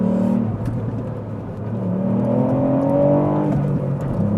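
A 2023 Ford Fiesta ST with a manual gearbox accelerates from inside the cabin, its engine note climbing steadily, dipping briefly at a gear change, then rising again loud and close, with no talking.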